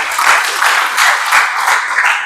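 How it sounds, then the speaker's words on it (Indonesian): Applause from a classroom audience of students, a steady patter of many hands clapping close by for about two seconds with no voices over it. "tepuk tangan, kasih aplaus"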